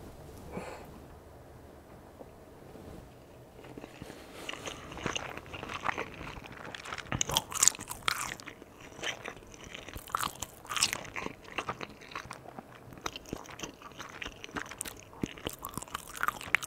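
Close, intimate crunching and chewing of sushi with a sauce, with irregular soft bites and mouth sounds building after a quiet start, with no talking.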